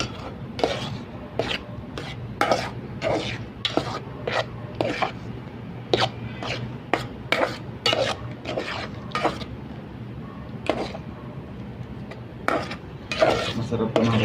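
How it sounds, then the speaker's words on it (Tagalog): Sautéed tomatoes with egg being stirred in a pan, with repeated scraping and rasping strokes of a utensil against the pan in an uneven rhythm, close and moderately loud over a low hum. "haluin na natin ito"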